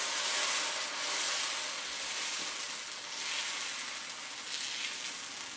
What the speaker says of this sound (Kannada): ದೋಸೆ ಹಿಟ್ಟನ್ನು ಹಾಕಿ